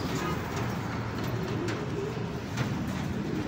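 Pigeons coo softly and steadily against a dense, noisy background hum, with a few faint clicks scattered through.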